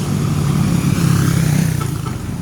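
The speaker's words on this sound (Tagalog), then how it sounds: "Mga motor lang agi." Motorcycles passing on a highway, a loud, close, steady engine drone that swells slightly and holds for a couple of seconds.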